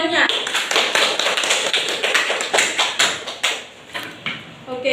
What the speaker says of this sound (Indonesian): berikan aplaus untuk temanya